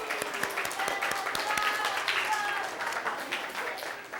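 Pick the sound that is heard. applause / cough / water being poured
applause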